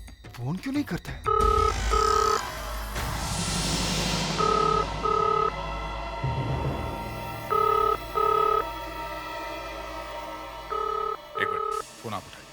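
A telephone rings in repeated double bursts of electronic trills, a clear pattern recurring four times over a quiet room with background sounds and a brief voice near the end.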